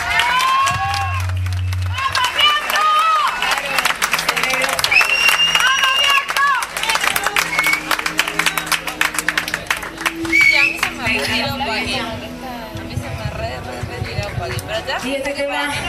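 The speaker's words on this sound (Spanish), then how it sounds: "Natalia, un aplauso." A crowd at a concert at The Roxy claps and cheers in a steady, dense wash, with music and voices mixing in and the applause thinning out toward the end.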